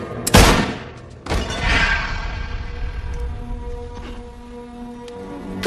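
Gunshots from a handgun in a dramatic film scene: two sharp, loud bangs about a second apart, each trailing into a long reverberant decay with a faint ringing tone beneath.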